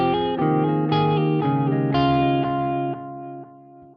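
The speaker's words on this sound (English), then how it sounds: "With tone to the left, we're going to have a darker, rounded off sound to the repeats." Guitar notes run through an Archetype: Plini X delay with the tone dial turned left, so each repeat comes back darker and rounded off; several chords ring out with trailing echoes that thin and fade toward the end.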